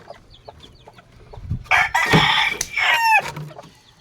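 Chickens clucking and squawking close by, with a loud burst of crowing-like calls in the middle before settling back to quieter clucks.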